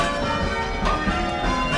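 Church bells rung by the Kirkbymoorside bell ringers in a tower, the second bell following the third: dense, sustained overlapping peals and metallic ringing, loud and continuous.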